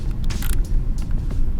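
Hyundai Atos driving, a steady low engine and road rumble filling the cabin, with faint rattles and bumps over it and no talk.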